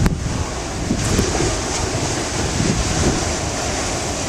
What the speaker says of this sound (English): And the waves coming off of Cape Cod Bay are nothing short of impressive.